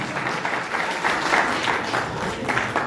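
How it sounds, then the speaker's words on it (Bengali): A bodybuilding competition audience applauds at the Urban Classic 2026 in a community hall in Manikchak, Malda: a full, steady wash of many hands clapping together, close and loud throughout the short burst, with no voices. "একবার জোরে হাততালি"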